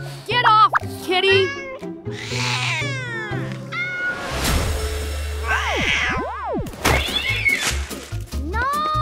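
Cartoon cat meowing in an animated children's learning show, several short high pitched calls early on, followed by springy boing-like sliding effects and music, with a voice speaking between sounds.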